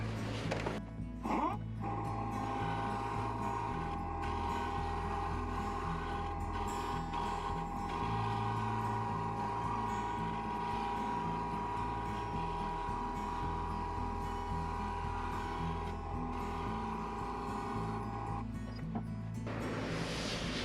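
Wood lathe turning a maple salad bowl, a steady motor hum with a tool cutting the spinning wood, a continuous close whirring with faint scraping texture throughout.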